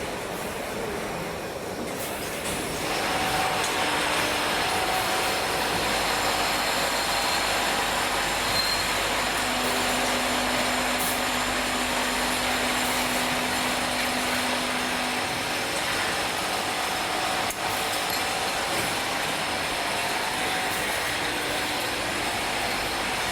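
A pipe fitting threading machine runs through a preset program at a factory, giving off a steady, loud mechanical drone with a faint rising whine in the middle, continuous throughout with no talking.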